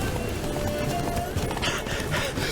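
Roach, the horse in The Witcher 3, galloping with quick rhythmic hoof clip-clops over constant game background noise, with a short whinny-like tone early on.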